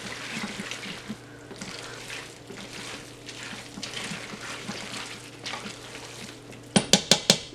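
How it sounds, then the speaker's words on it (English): Melting cheese being stirred into cooked pasta for baked mac and cheese in an Instant Pot, with steady wet mixing and scraping and a few sharp utensil clinks against the pot at the end, no talking. "start mixing it in so that it can melt"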